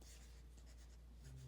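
Stylus scratching across the textured digital paper surface of a reMarkable 2 tablet, a faint, close, dry scritching in short strokes with a slightly louder stroke near the end.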